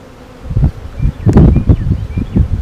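Honeybees buzz loudly and close by in an open beehive. Their droning hum swells and fades in uneven pulses over faint rustling.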